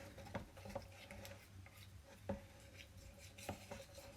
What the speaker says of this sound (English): This is just paint, so I can stir it with a popsicle stick.